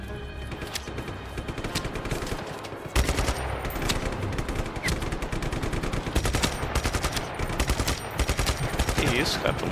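Rapid bursts of automatic gunfire crack repeatedly, loud and close, with rattling volleys continuing throughout in a dense, chaotic rhythm, in the video game Just Cause 3.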